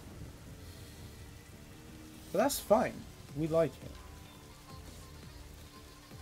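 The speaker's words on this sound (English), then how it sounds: "Very stormy day in Okehazama." Steady rain hisses through a stormy battle at Okehazama in the video game Samurai Warriors 4, running faintly in the background while someone talks over it.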